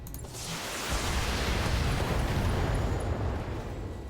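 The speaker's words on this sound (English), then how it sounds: "Nice ammo explosion." An ammo explosion in the video game Battletech, a loud, sustained rushing roar that swells and holds for several seconds, heard alone with no talk.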